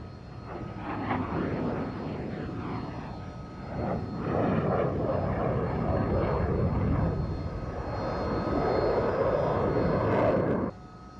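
An F/A-18 Hornet jet roars steadily through a slow high-alpha pass at the Mildenhall Air Fete, a loud sustained engine rumble that swells and holds, then cuts off abruptly at the end.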